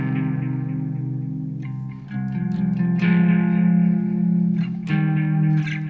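An electric guitar in drop C tuning plays an intro riff through chorus and echo effects, with ringing sustained notes and a few sharp picked accents, close and alone.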